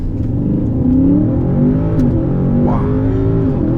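A powerful Audi engine with 800 Nm revs hard and surges as it launches using launch control, a loud continuous roar rising through gears with a slight jolt at a shift, close and steady.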